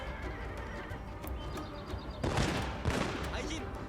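Cavalry horses neigh loudly in a Total War: Shogun 2 battle, with hooves clattering and bursts of gunfire breaking in partway through amid the din of the melee.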